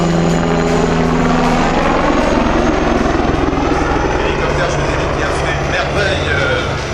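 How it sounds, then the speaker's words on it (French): A combat helicopter roars loudly and steadily throughout at an air show, rotor drone dominating the whole stretch with nothing else audible above it. "la personne chargée d'activer le système d'armes de l'hélicoptère de combat"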